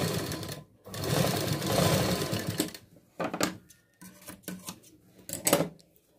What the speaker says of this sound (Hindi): तो यहाँ पर इसको डबल सिलाई लगाकर जहाँ पर भी ये टक्स खत्म हो रहा है यहाँ पर से अच्छे से इसको फोल्ड करना है